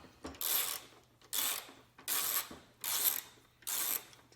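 A wrench loosening a 1/4-inch headlight nut on a 2006–2013 Chevrolet Impala, heard as five evenly spaced bursts of ratcheting clicks, close and moderately loud, with no talking.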